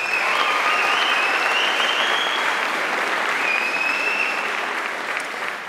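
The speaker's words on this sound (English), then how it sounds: "Now that we have the applause out of our system" At a gubernatorial candidates' forum the audience breaks into dense, sustained applause, a loud and continuous wash of many hands that holds steady and then eases slightly at the end.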